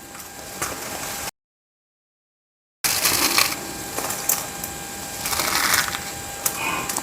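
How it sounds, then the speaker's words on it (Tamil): Crisp fried omapodi, a crunchy gram-flour snack, crumbling by hand into fine brittle crackles and snaps, close and fairly loud in scattered bursts with a brief silent gap. "எப்படி நொறுங்குது பாருங்க."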